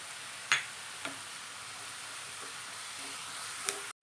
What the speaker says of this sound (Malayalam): സവാള ഇട്ട് കൊടുക്കാം. ഒന്ന് ഇളക്കി കൊടുക്കാം.